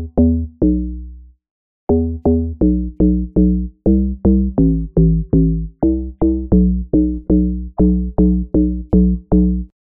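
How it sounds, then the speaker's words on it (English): A deep house Donk bass synth plays alone as a rapid, bouncy pattern of short, punchy plucked notes with a hollow, woody knock, following a brief opening phrase and pause. "That's it for the Donk Bass. Here's it one more time."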